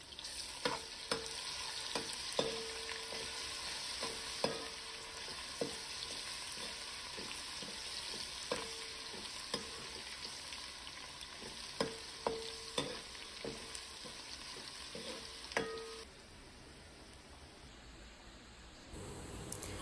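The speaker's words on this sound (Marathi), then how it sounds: "तेल गरम झाल्यानंतर त्यामध्ये वाटून घेतलेलं लसूण टाकून लसूण जरा लालसर होईपर्यंत परतून घ्यायचं" Ground garlic frying in hot oil for a Chivni fish curry, a steady soft sizzle with repeated clicks and taps of a spoon stirring, close and continuous, fading near the end.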